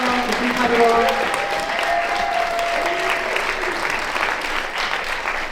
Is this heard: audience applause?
yes